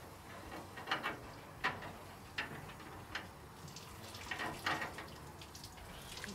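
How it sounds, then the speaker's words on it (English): Water poured into the cooling system of a 1964 Comet Cyclone, a faint splashing trickle with scattered clinks and knocks, quiet and close. "So what I'm gonna do is just put some water in here, see if it will hold the water"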